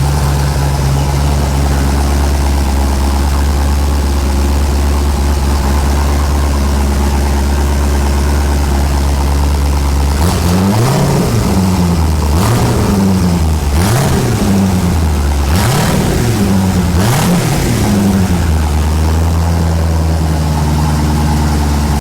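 Car engine running after an intake repair, idling with a steady low drone before being revved up several times in quick succession, then settling back to idle.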